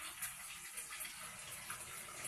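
Faint water trickles steadily from a household tap with weak pressure, a soft, even hiss lasting about two seconds with no voices.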